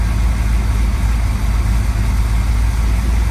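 A 383 engine in a third-generation Chevrolet Camaro idles after a cold start, not yet fully warmed up, giving a steady low rumble close by with no talk over it.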